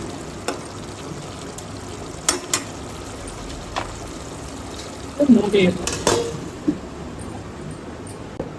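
A spoon stirs quail pepper gravy in a cooking pot, with a few soft scrapes and clinks against the metal that grow busier toward the end, quiet and close with no talk.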